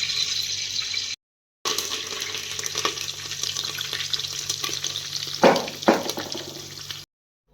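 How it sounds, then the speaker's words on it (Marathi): Cumin and mustard seeds sizzling in a little hot oil in a pressure cooker on a gas stove, a steady close hiss with a couple of louder crackling bursts toward the end and no talking. "थोडंसं तेल टाकलेलं आहे त्यामध्ये जिरे मोहरी जे आहेत ते टाकून घ्यायचं आहे"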